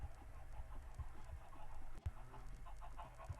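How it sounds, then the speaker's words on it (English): Chickens clucking in the Minecraft video game, a scattered flock giving short, soft clucks and squawks at an irregular rhythm over a low background hum. "A lot of chickens."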